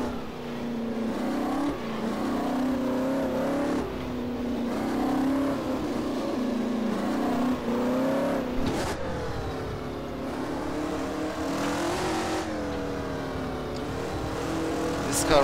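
A racing car engine in the rFactor driving game, Juan Manuel Fangio's car that ran the Targa Florio, drones steadily and loudly throughout, its pitch rising and falling as the revs change, with a brief shift near the middle.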